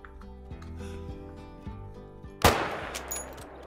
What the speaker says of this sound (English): Let's take a shot with the MOSIN